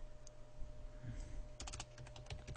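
Typing on a computer keyboard: a few soft taps, then a quick burst of rapid clicking keystrokes toward the end, fairly quiet and close, with no talk.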